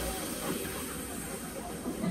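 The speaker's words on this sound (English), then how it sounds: "If you had an old VHS and you put it on fast forward, it would sound like this." An old VHS tape running on fast forward gives a steady, even whirring hiss that stays constant for about two seconds at a fairly low level, with no clear breaks or changes.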